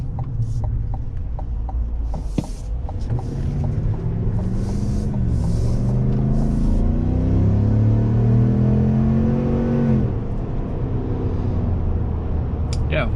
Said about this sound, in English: We'll give it some more acceleration.